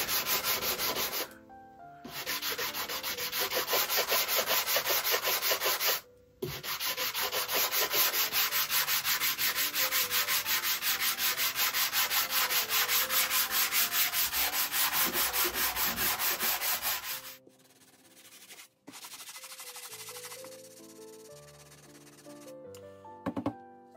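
Hand sanding of old varnish off a wooden Louis Philippe secretary desk with 120-grit sandpaper, a steady, loud, close rasping scrub in long continuous strokes with two brief pauses, then quieter sparse rubbing at the end.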